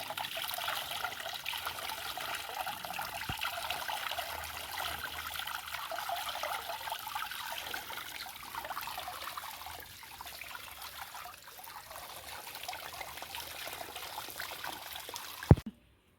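Water apples rinsed under a running tap in a home garden setting, a steady trickling stream of water splashing continuously at close range with no talking, ending in a brief clunk.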